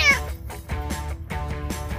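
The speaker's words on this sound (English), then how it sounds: "Stupid cat hates fish, but he loves attention." A cat meows several times in quick succession, close and fairly loud, its drawn-out harmonic cries repeating roughly every half second.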